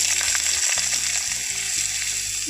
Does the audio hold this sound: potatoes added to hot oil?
yes